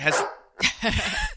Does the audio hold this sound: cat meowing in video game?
no